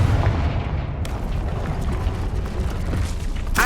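A Confringo fire spell blast in Hogwarts Legacy, a booming burst at the start followed by a rumbling, crackling fiery tail, with another sharp crack near the end.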